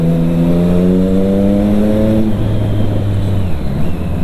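Triumph Street Triple 675R motorcycle with an Akrapovic sport exhaust, its engine held at a steady buzzing rev for about two seconds before dropping back to a rumbling idle, loud and close with no speech.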